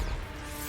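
A Bombarda spell impacts in Hogwarts Legacy as one short, heavy crash at the very start, followed by a rumbling, ringing tail that fades over a fraction of a second.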